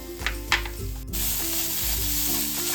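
Fresh coconut filling for karanji, with raisins, cashews, poppy seeds and cardamom, is stirred in a hot pan, a soft steady sizzle broken by a few scraping clinks of the spoon, with no voices.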